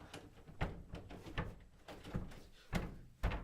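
Rattling knocks and thuds of a locked door being tried, repeated sharp bangs roughly every half second to second, loud and close, with no voices.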